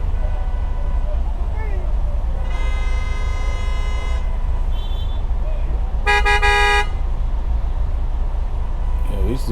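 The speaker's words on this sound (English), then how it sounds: "He's honking at the dude that's in front of me." Car horns honking in stopped traffic on a New Jersey road, several long loud blasts and a shorter toot over a steady engine rumble, with people talking nearby.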